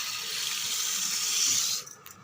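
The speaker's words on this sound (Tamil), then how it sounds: "நல்லா வாஷ் பண்ணிவிட்டு தண்ணி விட்டு மூடி வச்சிடலாம்." Seeraga samba rice being washed under a running kitchen tap, a steady close rush of water that cuts off abruptly near the end, followed by a few small drips and clinks.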